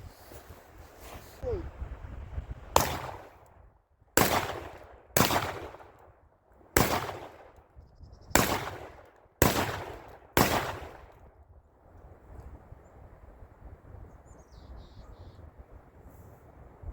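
Seven loud buckshot blasts from a Panzer EG200 semi-auto shotgun crack outdoors at irregular intervals of a second or two, each followed by a fading echo over light wind.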